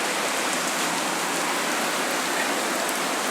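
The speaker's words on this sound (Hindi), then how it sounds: "बारिश हो रहा है" Steady rain falls at night, a dense, even hiss of drops on surfaces, close and constant for the whole stretch with no voices.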